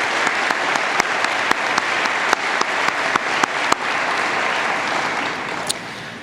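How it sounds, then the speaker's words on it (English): A college commencement crowd at Carroll Community College gives warm, steady applause with a few sharp individual claps standing out, fading slightly toward the end. "Let's give us a round of applause to our trustees and Dr. Olemaker."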